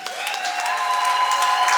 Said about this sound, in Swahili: Mpe Bwana Yesu makofi ya heshima